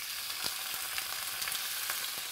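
Squid and garlic frying in a hot pan give a steady, close sizzle dotted with small crackling pops, with no talking.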